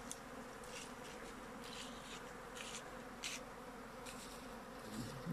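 Honey bee swarm caught near the foot of Karlı Mountain gives off a faint, continuous buzzing hum, steady throughout, with occasional louder passes of individual bees.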